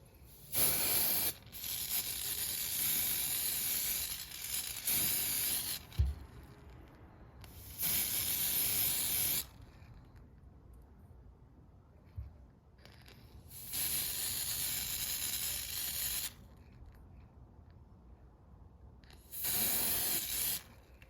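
Several bursts of hissing aerosol spray onto a Schmidt 28 dynamo, some long and some short, separated by pauses with faint clicks and handling noises, close to the microphone.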